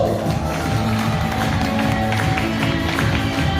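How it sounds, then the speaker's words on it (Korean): Wedding guests applaud in congratulation during a sung wedding tribute: a dense, steady wash of many hands clapping close by, sustained throughout with crowd noise mixed in. "여러분 축하 박수 부탁드리겠습니다"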